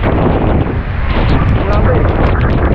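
Very strong typhoon Uwan wind buffets the microphone in a loud, continuous roar with gusty surges, pressing steadily throughout the short stretch.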